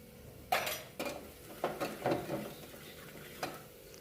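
A spoon stirs potato and pea curry in a pan, giving a handful of distinct scraping knocks and clatters spaced irregularly over a faint background sizzle, near and fairly quiet, with no voices.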